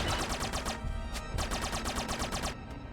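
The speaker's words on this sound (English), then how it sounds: "the gunfire's pretty loud here, too" Rapid bursts of gunfire from the side-scrolling action game The Mummy Demastered, loud sharp shots fired in quick repeated volleys with brief gaps, layered over game sound.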